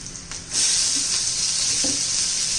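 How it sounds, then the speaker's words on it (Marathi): Chopped tomatoes go into a pan of sizzling garlic, onion, mustard seeds, cumin and curry leaves, and the frying hiss jumps to a loud, steady sizzle heard up close. "आता त्याच्यामध्ये टोमॅटो घालून घेऊ."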